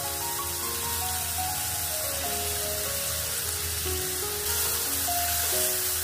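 Chopped onion, leafy greens like fenugreek and spinach, and a ground paste hitting a hot pan give off a continuous hissing sizzle that stays steady and close, swelling slightly near the end, with no voices.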